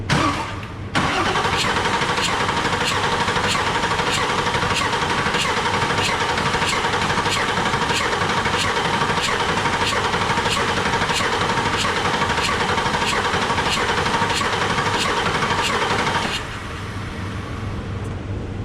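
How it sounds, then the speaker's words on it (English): A diesel service truck engine cranks over with a rapid, regular chugging beat while combustion vents out through an open glow plug hole after injector replacement, loud and close for about fifteen seconds before the cranking stops. "That's the combustion escaping through the glow plug hole."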